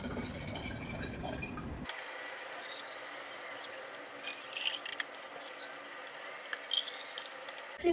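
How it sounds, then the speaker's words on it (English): Liquid pours from a Coca-Cola bottle into a jar to measure its capacity. A louder rush at the start gives way to a quieter, steady trickle with a few soft clinks near the end. "use this Coca-Cola bottle to fill in this jar to measure the capacity"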